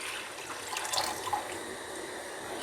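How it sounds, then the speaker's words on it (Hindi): Water, 300 ml, poured into a pan on a gas stove in a home kitchen, a soft continuous splashing and trickling heard close and fairly quiet for a few seconds. "गैस ऑन करके रखते हैं एक पैन को और इसमें डालते हैं 300 ml पानी।"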